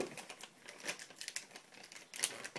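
Plastic-foil MRE pouch being cut open at its tear notches, with a series of short, close crinkling and snipping bursts spread over a few seconds, fairly quiet and with no talking.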